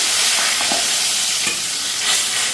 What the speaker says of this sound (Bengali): তো এদিকে জিরা ফুরন আর তেজপাতা দিয়ে দিতেছি